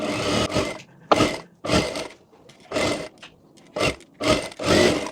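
Sewing machine stitching the neckline of a boat-neck princess-cut blouse, running in six short bursts separated by brief pauses, close and fairly loud.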